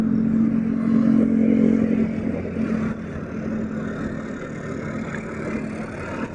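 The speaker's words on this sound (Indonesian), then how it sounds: "dan udah macet pisan." Dense traffic jam on Jalan Jenderal Ahmad Yani in the Cicadas area of Bandung, with a steady close rumble of idling motorcycles and car engines, occasional revving, a low hum throughout and no talking.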